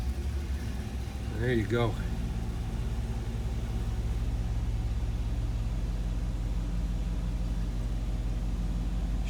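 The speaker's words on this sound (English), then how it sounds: "Let me fire it up, let you hear it running. She starts up with the turn of the key." A restored 1957 Chevrolet Bel Air convertible with its original 283 V8 and four-barrel carburetor cranks briefly and catches, then settles into a steady low idle that runs on close by, with a short spoken remark near the start.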